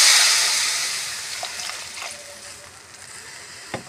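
Water hits spiced raw mango in a hot pan for a chutney, a loud hiss that fades quickly into a low bubbling simmer with a few faint clinks, and no talk.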